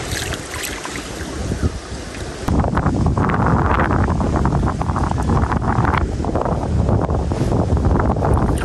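Strong wind buffets a small boat at sea during a crab-fishing trip, a steady roaring rush that jumps louder partway through and keeps blowing hard.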